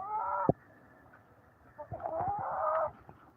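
Americana chickens on a farm cluck and squawk nearby, one burst at the start and a longer run of throaty clucking later, with quiet background between.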